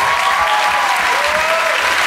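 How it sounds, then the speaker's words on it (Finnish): Concert audience at a Finnish rock show breaks into loud, dense applause, a steady wash of clapping with faint whistles or voices on top. "Annetaan suuri aplodit."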